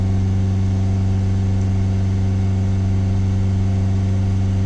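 A Ford Transit Custom 2.2 diesel engine is held at a steady 3000 RPM, giving a loud, constant hum with strong even harmonics and no change in pitch for the whole stretch, heard alone without talk.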